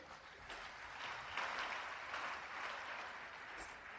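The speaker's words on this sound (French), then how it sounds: "Applaudissez s'il vous plaît." An assembly at a funeral gathering in Kinshasa breaks into soft, fairly distant applause that swells and holds for a few seconds.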